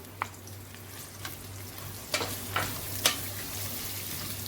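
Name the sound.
chopped onions frying in melted ghee, stirred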